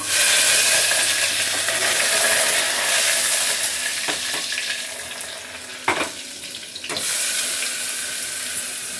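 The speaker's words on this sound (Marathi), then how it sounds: "आता जिरा मोहरी घातली, त्याच्यासाठी पहिली भाजी बनवून घेते. लसूण कढीपत्ता पण टाकून देते." Cumin, mustard seeds, garlic and curry leaves sizzle in hot oil for a dry fenugreek dish, a loud dense hiss that eases slightly, with a couple of sharp clinks from utensils partway through.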